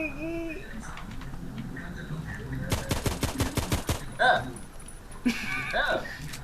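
Gunfire in the online shooter Contract Wars: a rapid burst of automatic fire in the middle, followed by a few scattered shots, with a voice talking before and between them.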